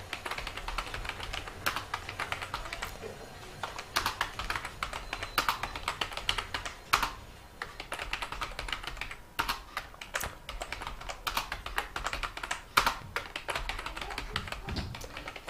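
Rapid, irregular key clicks from someone typing on a computer keyboard in MS Word, a steady quiet stream of taps with brief pauses and no speech.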